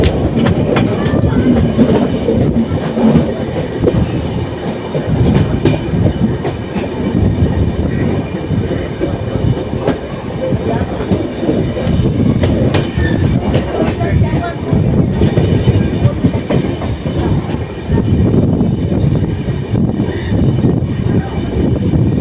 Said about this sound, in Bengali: সেই 1 মিনিট হল্ট দিয়ে এখন আমাদের ট্রেন ছুটে চলেছে এনজিপির দিকে।